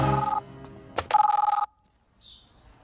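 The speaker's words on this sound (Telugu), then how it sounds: "ముందు ఫోన్ వచ్చింది చూడు" A telephone rings in a Telugu feature film scene: dialogue first, then two short bursts and a steady electronic ring tone lasting about half a second before cutting off, followed by quiet room tone.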